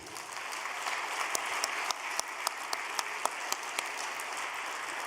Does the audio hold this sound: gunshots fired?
no